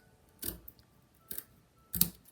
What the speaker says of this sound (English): I'm going to take my scissors and just angle cut this